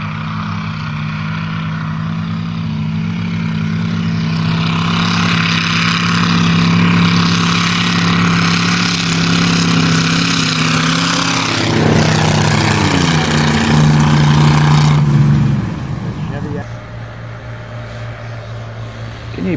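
Small motor vehicles called Cheviacs racing on a farm, a loud continuous engine drone with rising and falling pitch as they pass close, then the noise drops away near the end.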